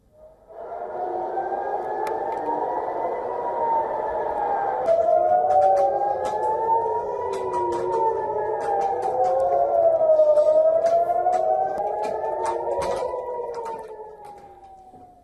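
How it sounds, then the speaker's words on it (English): Air raid sirens wail over Jerusalem, several overlapping tones rising and falling in long slow sweeps, loud and steady for the full length with no voices. "Air raid sirens were heard in Jerusalem and nearby West Bank towns"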